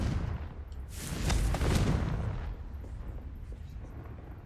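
A Confringo fire spell cast in a haunted shop in Hogwarts Legacy erupts in a loud, close explosive blast that swells in the middle, crackles, then rumbles away into a fading roar, with no talking.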